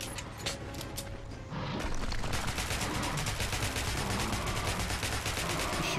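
Rapid gunfire fills a boss fight in the video game Metro: Last Light. After a brief lull, dense automatic bursts crackle loudly and continuously, with no speech over them.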